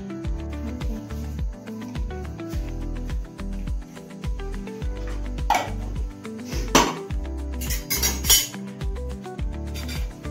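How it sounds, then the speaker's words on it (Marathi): Sabudana vada mixture is stirred and mashed in a bowl with steady, close clinking and scraping of a utensil against the dish, in a rhythmic series of knocks. "आता ते मिक्स करूया."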